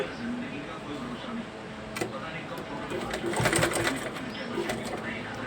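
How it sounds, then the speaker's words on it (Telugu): A sewing machine runs a straight line of stitching on a blouse hook strip, its steady mechanical whir continuing under a speaking voice and swelling briefly near the end. "ఇలా దీనికి ఇక్కడ నుంచి ఇలా స్ట్రైట్గా ఒక స్టిచ్చింగ్ అనేది వేసేయాలి"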